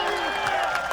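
A wrestling crowd at a lucha libre main event, cheering and applauding in a dense roar with scattered claps, heard briefly and steadily.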